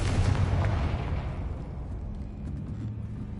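A Confringo fire-blast spell goes off in Hogwarts Legacy on PS5, a loud broadband burst that hits at once and then fades into a rumbling decay over a few seconds.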